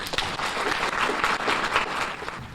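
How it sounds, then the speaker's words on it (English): An audience at a community conference bursts into continuous applause to welcome the next speaker, many hands clapping in a dense, even roar with no voices above it. "can you please give a celebratory round of applause and a warm welcome for our next speaker"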